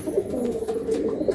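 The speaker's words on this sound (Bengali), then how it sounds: "খুবই ভালো কোয়ালিটির পায়রা" Andhra pigeons coo steadily in a low, rolling murmur, close and continuous with no talk over it.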